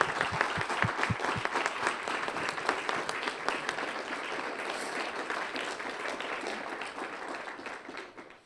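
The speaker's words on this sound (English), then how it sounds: "Let's give these distinguished students a round of applause." An audience at the McGill Lecture in Athens applauds distinguished students with sustained, thick clapping that holds steady for several seconds before tapering off at the end.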